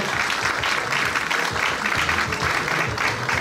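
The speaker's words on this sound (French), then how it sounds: "Est-ce qu'on peut applaudir le show qui va démarrer dans quelques instants, s'il vous plaît?" Steady applause from a crowd, dense clapping filling the whole stretch at an even, fairly loud level.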